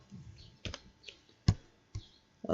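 A computer keyboard during work in Microsoft Excel: a few separate key clicks, close and quiet, with short pauses between them and no talking.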